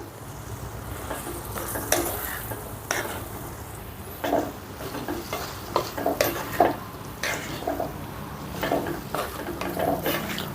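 A spoon stirs broad beans with garlic chili powder frying in oil on a low flame, scraping and clinking in a pan over a soft steady sizzle.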